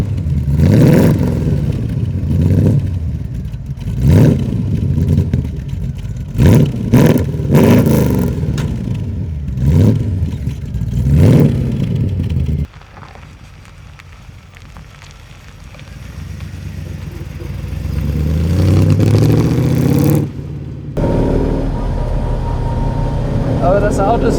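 A loud 1967 Bizzarrini 5300 GT engine revs repeatedly in rising bursts, then drops to a lower rumble and surges again, close and powerful.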